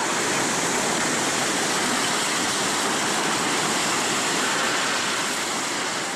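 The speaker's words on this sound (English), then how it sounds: "tsunami waves sweep through neighborhoods," Tsunami floodwater rushing through neighborhoods in Kesennuma, Japan, dragging homes and property, a continuous loud roaring wash of turbulent water with no gaps, steady and close throughout.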